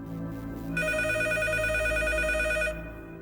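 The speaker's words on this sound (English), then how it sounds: "And then the phone rang." A telephone rings once in a bright electronic trill lasting about two seconds, clear and fairly close, over a low background hum.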